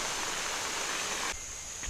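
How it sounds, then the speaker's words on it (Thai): Steady broadband rush of the Polan waterfall inside Khao Chang Hai cave in Trang, Thailand, filling the first second and a quarter before dropping to a quieter, more distant wash. "และนี่คือน้ำตกโปลาน"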